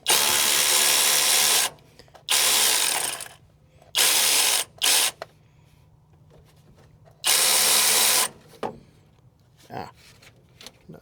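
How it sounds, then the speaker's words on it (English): Rapid clicking of a ratchet wrench with a half-inch socket on a 1975 GMC's power steering pump, loud and close in several bursts of a second or two separated by quiet pauses. "We've got ourselves a 1/2 inch inch and the ratchet with a 1/2 inch on it."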